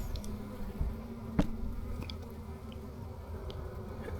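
Russian honey bees from a package colony buzz on a brood frame, a faint low steady hum with a few brief louder passes of single bees close by. No one speaks.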